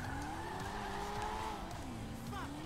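A Corvette drives and skids in the video game GTA 5 Online, engine tone rising and falling with squealing tyres, steady and fairly close.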